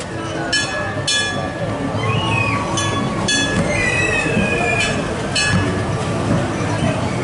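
Runaway Mine Train roller coaster at Alton Towers, with nearby rail noise of rumbling cars, high wheel squeals and sharp metallic clacks recurring every second or so, moderately loud, over a busy park background.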